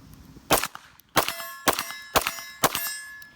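A Smith & Wesson M&P9 2.0 pistol, deliberately fouled with dirt, fires five sharp, ringing shots at a steady pace, each crack followed by a brief metallic echo, loud and close with no talking.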